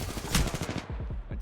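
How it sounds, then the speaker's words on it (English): Rapid bursts of gunfire in a first-person shooter video game, loud and continuous with repeated sharp shots throughout, with no talking. "Shots fired and they're hitting me."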